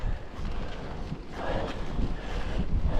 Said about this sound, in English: the wind is not making any allowances